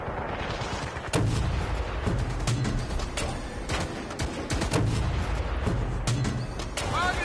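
Rocket explosions and gunfire in the video game Battlefield Bad Company 2, Vietnam Rush mode, with repeated heavy booms and blasts in a dense, continuous battle din; a voice talks briefly over it.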